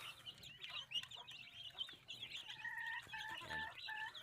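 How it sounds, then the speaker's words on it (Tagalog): Red junglefowl (labuyo) chicks peep in quick, high, repeated chirps, close by and fairly busy, with no talking. "itong aking mga sisiyo"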